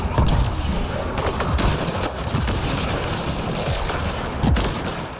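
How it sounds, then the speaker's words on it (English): Enemy flak cannon fire during Mass Effect: Andromeda combat, a loud barrage of repeated booming bursts and rattling gunfire over several seconds amid battle noise. "He's gonna shoot his flak cannon at me"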